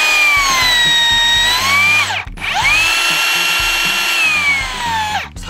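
A cordless 36V cut bender slicing through 16 mm steel rebar, its electric motor whining loudly and steadily, dipping in pitch under load, then briefly stopping before a second loud cut that also sags in pitch near the end.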